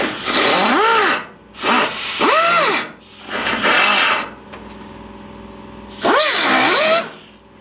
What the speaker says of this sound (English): A little belt sander,